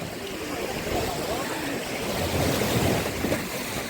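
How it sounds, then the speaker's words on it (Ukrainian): Steady roar of Black Sea surf at an Odesa beach washing continuously, broadband and fairly loud, with wind-like rush and no distinct breaks. "Ми ми море знімаємо, Растя, море"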